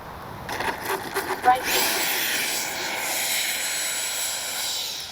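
FMS 70mm Yak 130 RC jet in flight on a clear day, a steady broad turbine hiss that swells after a few scattered bumps and then holds at a constant level, with people talking faintly.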